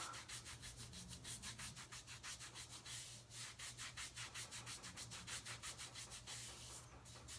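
Hands rubbing wax onto skin during a waxing session, making a fast, steady, regular rasping rub with a faint low hum underneath and no talking.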